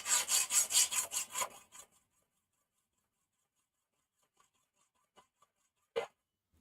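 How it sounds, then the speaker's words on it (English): Hand sawing through hardened steel during a ProosaXY build, a quick run of about eight rhythmic rasping strokes, close and loud, then near silence broken by a few faint ticks and one sharp scrape. "it takes a while to cut through that hardened steel"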